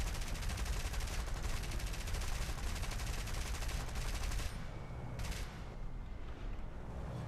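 Aircraft gunners in the War Thunder game firing machine guns from a bomber, with dense continuous rattling fire that stays loud throughout and eases slightly near the end.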